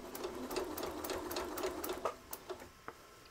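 A long-arm quilting machine stitches fabric on a quilted rug, a fast rhythmic mechanical patter up close that slows into a few separate clicks at the end, with no voices.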